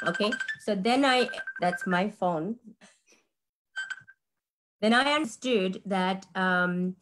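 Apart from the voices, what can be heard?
phone ringing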